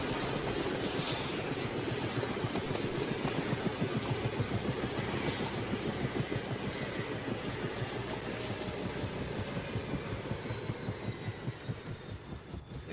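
A helicopter in the video game ArmA II DayZ drones loudly and close by, its rotor chopping in a fast, even pulse that fades slightly toward the end with no talking.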